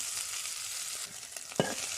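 Onion with ginger and garlic paste sizzling in a pan: a steady, close frying hiss, with a brief sharp spatter and stir near the end, and no voices.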